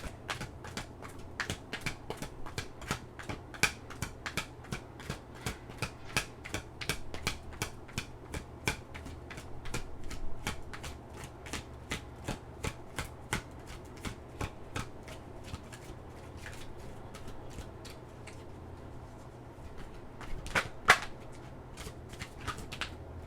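Oracle cards being shuffled by hand during a Capricorn reading, a long run of quick, crisp riffling flicks in steady rhythm, close and fairly quiet, with one sharper snap near the end and no voices.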